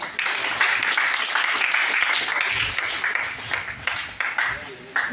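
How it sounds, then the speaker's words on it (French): A panel audience applauds the Alliance of Sahel States, a loud, continuous wash of many hands clapping, with a voice speaking over it and a few scattered claps as it tapers. "Puis-je obtenir des applaudissements pour l'Alliance des États du Sahel?"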